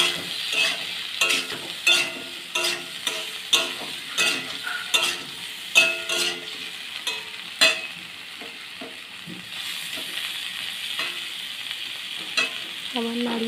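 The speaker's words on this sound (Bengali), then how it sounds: "এবার দিয়ে দিলাম ভেজে রাখা পটলগুলো।" Fried pointed gourd is tipped into a pan with cauliflower, potato and paneer and sizzles steadily, with a spoon stirring and scraping against the pan in a repeated rhythm.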